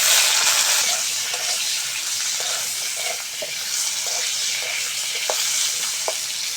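Cut, washed mango pieces sizzle loudly in hot oil with five-spice tempering, a constant bright hiss filling the whole stretch with a few small pops and crackles near the end.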